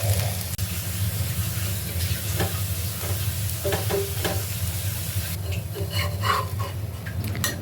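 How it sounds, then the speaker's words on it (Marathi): A red rice onion uttapam roasts on a hot pan with a constant crackling sizzle, and scattered scraping ticks grow busier toward the end; no one speaks. "परत भाजून घेणार आहोत उत्तप्पा छान एका बाजूने भाजलेला आहे"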